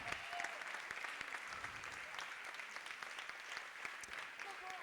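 A dance audience at a boogie woogie competition claps for the dancers, giving steady, dense applause that fills the whole moment at a moderate distance, with faint crowd murmur underneath.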